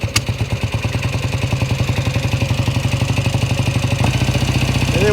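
A 1967 Kawasaki W1 650 motorcycle, kick-started, settles into a steady, rhythmic close-up idle with a loping, clattery beat and slight uneven firing.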